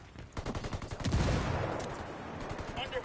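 Ghost Recon Wildlands gunfire, with rapid rattling bursts of automatic shots and a heavier blast, loud and close, under dense game noise while a player talks.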